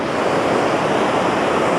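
The big lower falls in Spokane, Washington, send water rushing over rock in a loud, dense, continuous roar. It sounds close and unbroken, with some wind noise mixed in and no voices.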